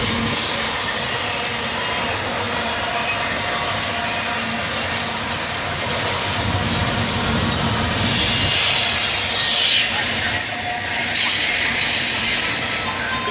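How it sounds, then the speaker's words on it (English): A GO Transit commuter train passes on the Oakville Subdivision at Mile 32, a loud, steady rumble and roar that holds for over thirteen seconds with no speech. "Let me guess, we got a GO train coming."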